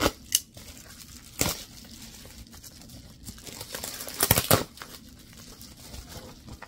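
Insulating packing paper crinkles and rustles as a Monstera Thai Constellation plant is unboxed, with close, intermittent crumpling bursts over a quiet room background.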